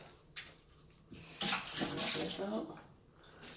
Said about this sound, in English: Got me some bottled water. You get me a measuring cup.